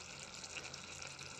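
A pot of spice mixture of coriander powder and Byadagi chilli powder in water simmers with a soft, steady bubbling hiss, close and quiet, with no talk.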